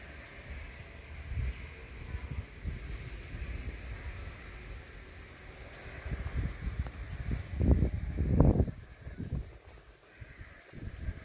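Gusty wind buffets a microphone by the shore of Taal Lake in Talisay, Batangas, with the volcano in view, rising into louder rumbling bursts near the middle before easing off.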